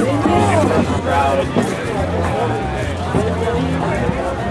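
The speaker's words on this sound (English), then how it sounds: "Everyone's pumped, the crowd's going." A rambunctious crowd of young people chattering in a Pacific Beach bar and hookah lounge, a close, dense hubbub of overlapping voices that holds steady and loud for a few seconds.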